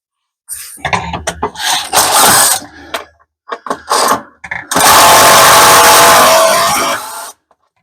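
A power driver runs a screw into a tough wooden cabinet during installation, giving several short whirring bursts followed by a longer sustained grinding run until the screw snaps, loud and close with no talk.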